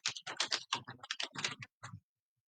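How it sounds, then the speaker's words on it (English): A rapid run of keystrokes on a computer keyboard, close and clear, clattering for about two seconds before falling silent. "So we're going to type that in."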